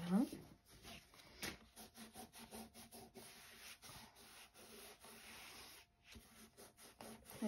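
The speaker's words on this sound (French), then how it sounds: "On essuie la colle si elle a légèrement débordé." A large cloth wipes excess glue off scrapbook paper in quick, uneven rubbing strokes, close and faint, with a brief break partway through.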